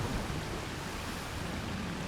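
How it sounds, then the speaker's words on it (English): Steady, dense wash of ocean surf in a stormy video game sea, rolling continuously with no distinct breaks, moderately loud and alone without any voices. "I love the fact that the waves are actually a little bigger."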